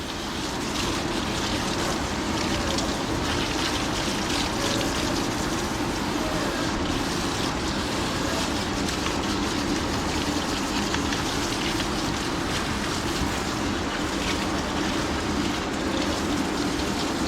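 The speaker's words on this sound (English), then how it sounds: "And now I'm just gonna rinse." Steady, continuous rush of running water spraying without pause as it rinses a dog's coat, loud and even throughout.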